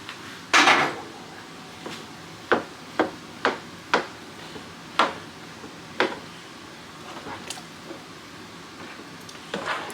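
Venison meat spaghetti sauce stirred in a pot, a series of sharp spoon-on-pot knocks and scrapes at irregular intervals over quiet room background.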